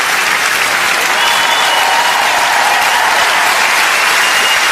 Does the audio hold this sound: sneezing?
no